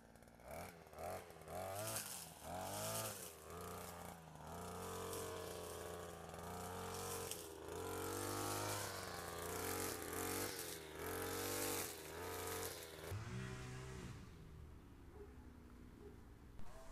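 A GPT TBC-522 petrol string trimmer cuts grass, its two-stroke engine droning loudly and close with rising and falling revs throughout, then dropping to a quieter idle near the end.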